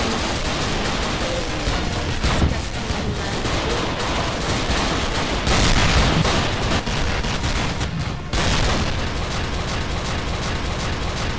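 Dense gunfire in the video game Dino D-Day, with rapid overlapping shots and bursts crackling loudly and continuously throughout, like a close, busy firefight.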